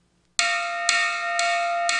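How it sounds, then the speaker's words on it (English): A hand bell in the Riddle of the Maze computer game (Interplay, 1994) rings loudly after a short silence, with four bright, sustained strikes at steady half-second intervals and no voices. "I quickly picked up the bell,"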